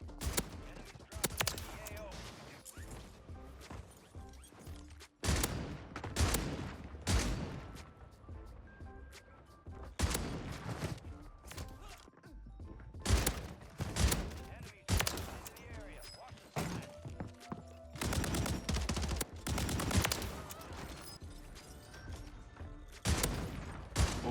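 Shotgun blasts and other gunfire from a Warzone firefight crack out in dense repeated bursts over roughly twenty seconds, loud and close, with short pauses between volleys.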